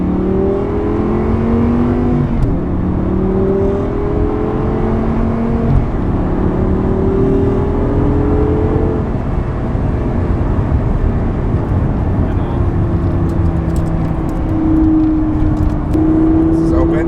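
A Honda Civic project car's engine with everything closed, droning and revving steadily in long rising and falling pulls, loud and close throughout.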